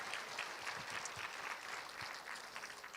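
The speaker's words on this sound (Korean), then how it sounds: "우리 하나님께 감사의 박수 올려드리겠습니다" A church congregation gathered for Sunday worship, some outdoors in the rain, claps together in a steady, dense wash of applause that holds at an even level throughout.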